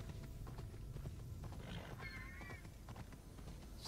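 Faint rhythmic hoofbeats of a horse running in the video game Immortals Fenyx Rising, soft clip-clop under ambient game sound with a brief high tonal chime in the middle.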